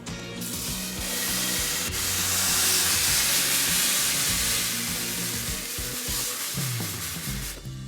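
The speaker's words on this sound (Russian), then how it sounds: "обжариваем с одной стороны блинчик около 40 секунд" Crepe batter sizzles steadily in a well-heated, pre-seasoned pan, a continuous hissing crackle close by, with a few soft scraping touches.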